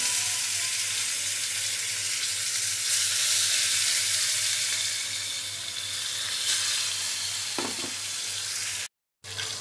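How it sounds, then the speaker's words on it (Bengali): Koi fish frying in hot oil, a steady bright sizzle and crackle close by throughout, with a low hum beneath and a brief cut near the end. "এই মাছটা একটু ভালো করে ভাজবো"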